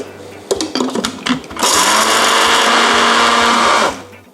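A kitchen blender grinds coriander root, black peppercorns and garlic into a paste for a pork marinade. A few short knocks and clatters come first, then the motor whirs loudly and steadily for about two seconds before stopping abruptly.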